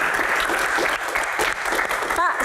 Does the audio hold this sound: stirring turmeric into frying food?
no